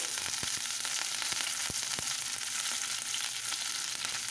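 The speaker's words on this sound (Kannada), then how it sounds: "ಈಗ ಒಂದು ಪ್ಯಾನ್ನ ಬಿಸಿಗಿಟ್ಕೊಂಡು ಅದಕ್ಕೆ ಜಜ್ಜಿ ಇಟ್ಕೊಂಡಿರುವಂಥ ಬೆಳ್ಳುಳ್ಳಿ ಸಾಸಿವೆ ಜೀರಿಗೆ ಹಾಕೋಬೇಕು" Crushed garlic, mustard seeds, cumin and curry leaves fry in a hot pan, a steady sizzle with scattered small pops and crackles, close and alone.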